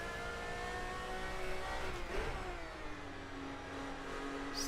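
BMW race car engines in a 1990s classic endurance racing sim, a steady high-pitched drone with a rising whine, a mid-clip pass and shifting pitch, loud and continuous with no talking.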